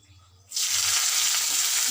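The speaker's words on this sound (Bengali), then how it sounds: "আর এই দেখো নিমটাকেও আমি এবারে ভেজে নেব কড়ার মধ্যে তেল দিয়েছি" Neem leaves hit hot oil in a wok for a summer neem-and-eggplant dish, setting off a sudden loud hiss about half a second in that holds steady and strong throughout.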